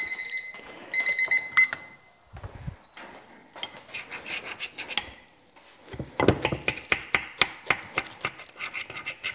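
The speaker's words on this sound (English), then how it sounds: "There's the timer." A kitchen timer alarm rings while a tortilla stack dinner is being cut and served at home, its repeated sharp chiming beeps sounding in a steady rhythm among knife taps and clattering dishes.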